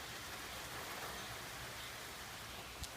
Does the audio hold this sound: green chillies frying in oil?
no